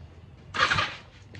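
A starter motor briefly cranks the engine of a 500 Turbo car: one short, fairly loud whirring burst of about half a second that cuts off without the engine catching, with no talk.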